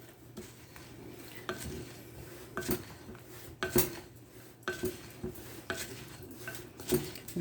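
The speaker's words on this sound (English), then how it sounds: "And mix it all together." A spoon works melted butter into a cinnamon filling in a bowl, clinking and scraping against the sides in quick, irregular strokes, close by and alone.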